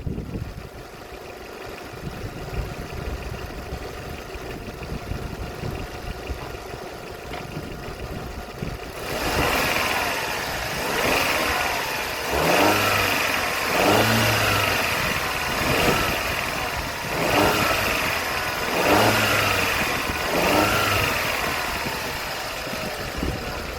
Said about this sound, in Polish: Pokażę też, jak zachowuje się silnik przy wyrąbanym tym odbijaku.